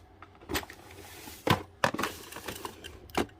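A drawer of art supplies in a small home nail studio opens with a few sharp wooden clacks and rattling knocks spread over a few seconds, close by with no talking.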